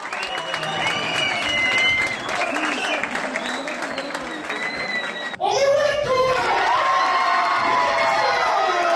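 A crowd at a boxing fight cheers and shouts, with high excited yells and clapping. A sudden louder surge of roaring cheers about halfway through carries to the end.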